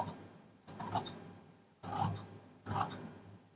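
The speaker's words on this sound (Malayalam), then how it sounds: "നീളം അതേപോലെ തന്നെ ഈ ലൈനിലൂടെ നീളത്തിൽ കട്ട് ചെയ്തെടുക്കുക." Scissors cut folded shirt fabric for a cuff along a marked line. Three separate close, rasping snips are heard, each followed by a short pause, with no talking.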